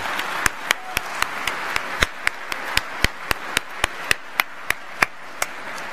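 A graduation ceremony audience applauds the musicians, heard as a broad wash of clapping with a steady series of sharp, evenly spaced loud claps or knocks cutting through it, moderately near.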